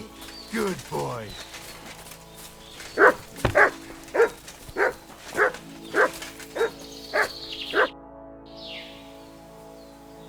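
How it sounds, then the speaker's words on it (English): A dog in Kingdom Come: Deliverance 2 barks in a steady series of about a dozen loud, evenly spaced woofs, after an opening of whining or growling sounds. "Good doggy. Good boy."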